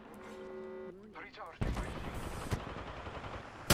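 Gunfire in Apex Legends, an online battle royale on King's Canyon: bursts of automatic weapon fire crack loudly and continuously after a short stretch of tonal game sounds, with a sharp shot at the very end.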